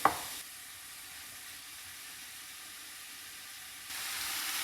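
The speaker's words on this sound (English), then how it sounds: "I'm going to let it fry just 3 minutes." Shrimps, mussels and bouillon frying in a pan, heard as a steady, faint, even sizzling hiss after one brief knock at the start, close and without talking.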